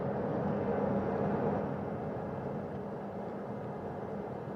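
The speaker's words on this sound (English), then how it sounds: "That first helicopter now on its way back to the ship here." A helicopter flies back toward a ship's flight deck about 3,000 yards away after recovering Artemis II astronauts, a steady low rotor and engine rumble that stays fairly loud and fades slightly toward the end.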